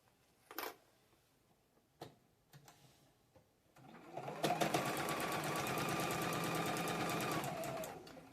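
Sewing machine stitching quilt pieces: a few quiet clicks and brief handling sounds, then a fast, steady loud whirring stitch run for several seconds that stops abruptly.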